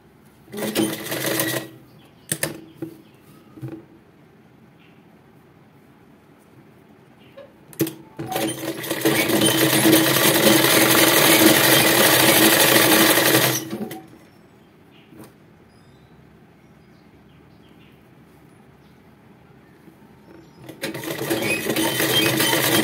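A sewing machine stitches the waistband of a Patiala salwar, with short bursts of stitching early on, then a long steady run of about five seconds and another run at the end, separated by quiet handling pauses.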